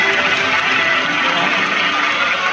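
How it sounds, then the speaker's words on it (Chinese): A crowd at a fan event applauds two guests, actors Ren Jialun and Bai Lu, with steady, continuous clapping heard from within the audience for a couple of seconds. "你们掌声再次送给两位"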